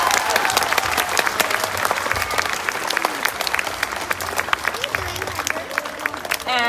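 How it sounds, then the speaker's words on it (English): Schoolchildren and guests at an elementary school flag-raising ceremony give a loud, lively round of applause for retirees, with sharp individual claps over a dense crowd of hands and voices chattering throughout. "Boys and girls, give them all a great round of applause."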